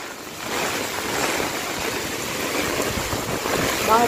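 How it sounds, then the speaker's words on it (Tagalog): A continuous rushing roar of typhoon wind, dense and steady, with faint intermittent sounds buried in the gusting noise. "Ang lakas po ng bagyo."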